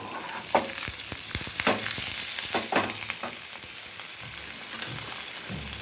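Shallots, garlic, ginger, asafoetida, dried and green chillies sautéing in oil, a steady close sizzle with a run of clattering spoon stirs and scrapes early on, then quieter frying.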